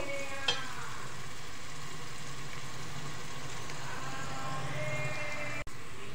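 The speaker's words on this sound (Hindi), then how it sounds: "अभी मैं इसके साथ इसको मज़ीद पकाऊंगी प्याज को।" Onions and star anise frying in a mix of oil and ghee while masoor pulao is being made, giving a steady, close sizzle with occasional stirring, a brief clink early on and no talk.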